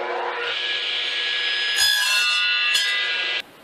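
A hand saw cuts steadily through a piece of oak to trim off a bad end, making a close, continuous rasping that stops abruptly near the end.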